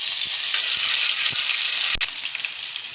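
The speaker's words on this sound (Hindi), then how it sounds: "पैन में 2 चम्मच देसी घी के ले लेंगे और उसमें ½ टेबलस्पून जो है अदरक ऐड करेंगे।" Ginger sizzling in hot desi ghee in a pan for a tadka, a steady close bright hiss that holds for about three seconds, with a brief crackle near the middle and no voices.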